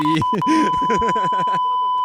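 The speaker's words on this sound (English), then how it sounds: "I will probably bleep it" A censor bleep masks a name in a podcast conversation, a steady tone held for about a second and a half under and across speech, ending abruptly while voices carry on.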